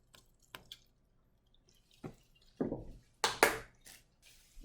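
Alcohol is poured into a lab cup until it is about a quarter full, heard as scattered drips and a few short, faint splashing trickles in a quiet room.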